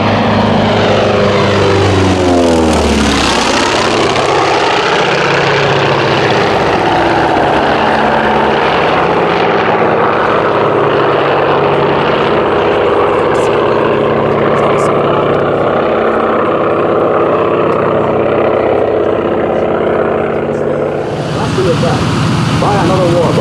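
Propeller airplane engine with a Hartzell propeller, a loud continuous throbbing drone close by that sweeps in pitch as it passes early on and holds steady, with a brief shift near the end.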